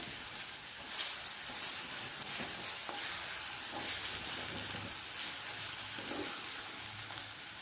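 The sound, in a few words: stirring and frying onions with ground chilli paste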